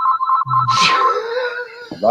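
A mobile phone rings in an office, a repeated electronic ringtone of bright pulsing tones, loud and close, with a voice cutting in over the ring.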